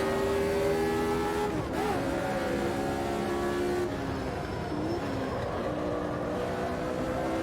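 A Lotus 79 race car in the game Automobilista 2 screams loudly and continuously throughout, its engine pitch sweeping up and down through gear changes while the car is driven around a track.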